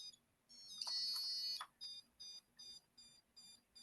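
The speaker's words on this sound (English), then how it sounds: "And I'm going to count out about 30 beeps." A Dolphin neurostim device beeps during a treatment session: a long steady tone, then a regular series of short, clear electronic beeps at an even pace, fairly loud and close, with no talking.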